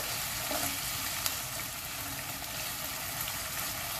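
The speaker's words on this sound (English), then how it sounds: "You see all the sauce is cooking?" Pork and sauce for spicy mapo tofu cook steadily in a pan, a continuous close sizzle and bubbling with no pauses and no talk over it.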